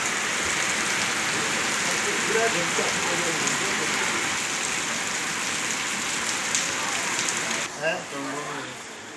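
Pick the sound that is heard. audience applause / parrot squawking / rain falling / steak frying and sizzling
rain falling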